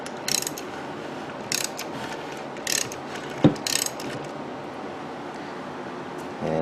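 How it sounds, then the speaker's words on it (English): A Kawasaki ZX7R motorcycle engine is turned over by hand, its chain and pistons making repeated ratcheting, clicking bursts with one sharp knock midway, close up in a quiet room. "let's see if I can get this to turn without locking up the chain"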